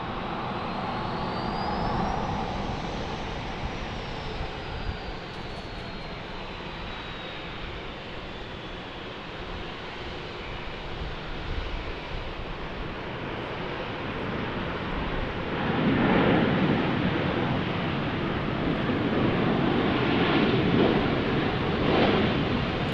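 An airliner in Freedom 1 livery at Dallas Love Field roars steadily for over twenty seconds, a broad continuous engine wash with a faint rising whine early and a louder surge near the end, no talk.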